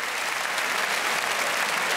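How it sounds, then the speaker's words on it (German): Dense, steady applause from a large crowd at a televised high-diving competition night, a short unbroken wash of clapping heard on its own. "Vielleicht nochmal einen Applaus für alle Teilnehmer des heutigen Abends."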